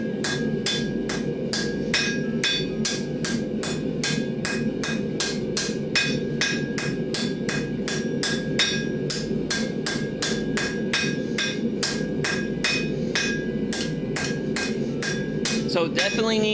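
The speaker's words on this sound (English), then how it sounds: "let's try working this guy with the ball peen" A ball peen hammer strikes hot steel on an anvil while an S-hook is forged, ringing with a long, steady run of evenly spaced metallic blows, close and loud, with a low roar beneath.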